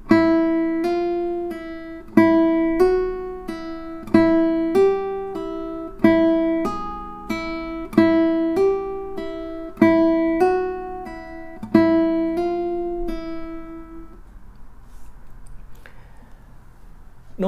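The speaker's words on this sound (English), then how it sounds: "Notice that when we hammer on, we press the string still until we pull off." A clean guitar plays a repeating pattern of quick plucked notes, each group sharply attacked and decaying, cycling evenly before fading out.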